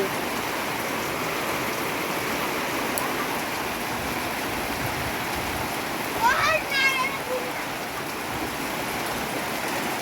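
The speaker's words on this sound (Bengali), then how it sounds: "বৃষ্টি হচ্ছে, আর এই যে" Steady rain falling outdoors, a dense, even wash of patter throughout with a brief sharper clatter near the middle.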